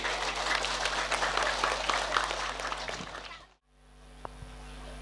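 An audience at a Balinese Hindu dharma talk claps in a soft, steady patter of applause for a few seconds, then it cuts off abruptly to near silence with a faint hum.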